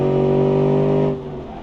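Muscle car engine in the BeamNG driving game, a loud steady rev with strong low harmonic drone that drops off sharply partway through, no talk.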